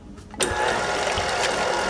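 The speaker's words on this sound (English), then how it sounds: "We're gonna bring this right over to our mixer and put it on low." A kitchen stand mixer switches on at low speed to beat keto pumpkin cheesecake filling, a steady motor whir starting abruptly and holding even and loud, close by with no talking.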